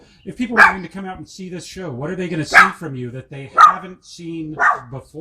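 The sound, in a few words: dog barking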